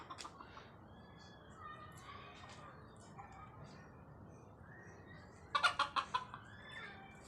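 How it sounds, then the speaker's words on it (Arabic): Chickens cluck in a bird park in Fez, Morocco, with a few soft early clucks and then a louder burst of several quick clucks near the end over a quiet outdoor background. "كاينين الدجاج"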